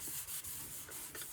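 A soft, continuous rubbing friction sound, hissy and steady with slight pulses as cloth applies friction polish to a spinning segmented oak, maple, walnut and resin bowl on a lathe.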